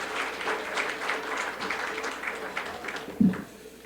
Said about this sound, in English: Let's applaud one more time for them